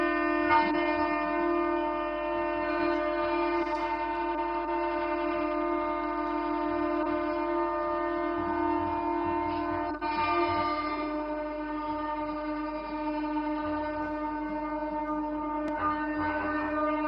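An Amrit Bharat Express train sits with its horn sounding in a long, steady, loud blast that holds throughout at a flag-off ceremony, with faint crowd noise underneath.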